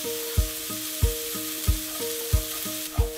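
Chopped onions sautéing over low heat in a single pan used to sear steak, a steady sizzle broken by regular stirring scrapes and clunks about every two-thirds of a second, close and fairly quiet.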